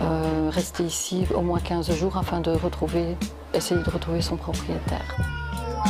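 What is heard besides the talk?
cat meowing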